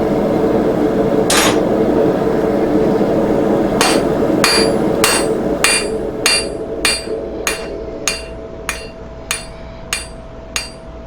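A blacksmith hammers hot steel while fullering the rivet joint of round jaw tongs: one sharp ringing strike, then a regular series of about eleven close, loud hammer blows that gradually soften, over a low forge roar.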